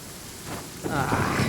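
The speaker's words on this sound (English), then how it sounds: "Uh-oh! Lightning storm!" Rain from a video game thunderstorm in Genshin Impact, starting softly and then thickening into a dense, close patter of falling rain for the last half second or so.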